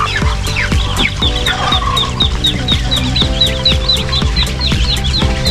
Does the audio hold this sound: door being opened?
no